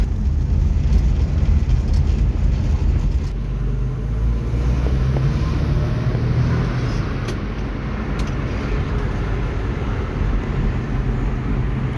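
White 1971 Chevrolet Opala sedan on the move, its engine and road noise forming a steady, moderately loud low rumble that eases slightly partway through, with no talking.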